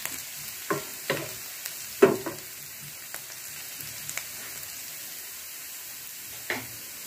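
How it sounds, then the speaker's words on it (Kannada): Chopped garlic and ginger frying in a pan for restaurant-style Gobi Manchurian: a steady soft sizzle with a spoon stirring and scraping at intervals, close and fairly quiet. "ಬೆಳ್ಳುಳ್ಳಿ ಹಾಕ್ಕೊಳ್ತಾ ಇದ್ದೀನಿ. ಮತ್ತು ಶುಂಠಿ ಎರಡನ್ನು ಫ್ರೈ ಮಾಡ್ಕೊಳ್ಳಿ."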